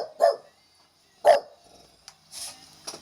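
Dog barking indoors, two sharp close barks about a second apart followed by softer yips and a whine.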